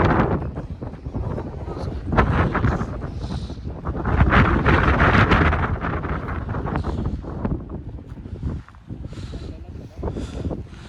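Strong, cold gusting wind among high mountains buffets the microphone continuously, a loud roaring rush that swells and eases, with a voice faintly beneath it.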